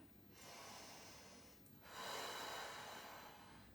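A person breathes deeply and slowly during a ball exercise, with two long drawn breaths in a row, close and soft, each a steady airy rush with no voices over them.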